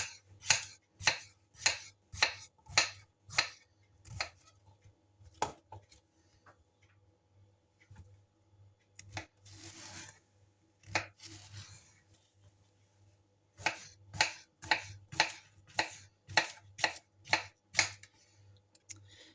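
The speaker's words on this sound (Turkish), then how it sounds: "Şöyle kabağı ikiye ayırıyorum. Böyle kuşbaşı şeklinde doğruyorum." A knife chops zucchini into cubes on a board in quick, regular strikes, pausing in the middle with some rustling, then resuming its steady rhythm.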